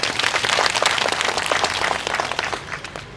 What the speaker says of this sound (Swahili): Tupige makofi.